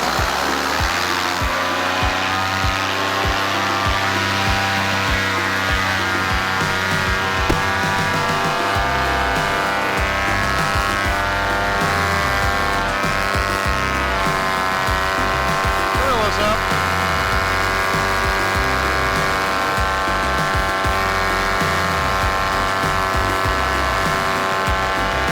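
A paramotor engine throttles up for takeoff on a cross-country powered paragliding flight. It gives a loud, close, droning roar whose pitch climbs over the first few seconds and then holds steady, with faint voices underneath.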